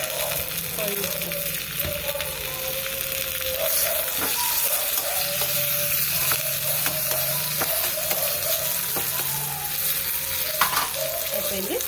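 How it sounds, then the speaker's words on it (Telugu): Tempering of cumin, mustard seeds, green chillies and curry leaves frying in hot oil for betel leaf rasam, a steady close sizzle with scattered pops and stirring clicks, a voice speaking over it. "జీలకర్ర ఆవాలు వేసేసుకుందాం. ఇప్పుడు 2 మిరపకాయలు, కరివేపాకు,"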